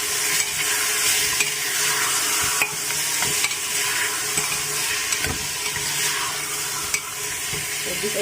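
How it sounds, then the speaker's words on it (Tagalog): Chicken sautés in a hot pan for Taiwanese-style home cooking, with a loud steady sizzle throughout and occasional stirring scrapes and clicks, close by. "Gisa-gisa muna para maluto ng like yung chicken kasi para lumabas din yung lasa niya."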